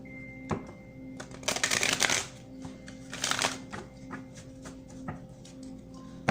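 A deck of archetype cards being shuffled at close range, two loud riffling bursts with softer card taps and handling between them, over a steady low background hum.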